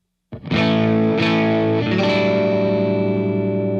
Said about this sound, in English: Let's hear it on the neck position.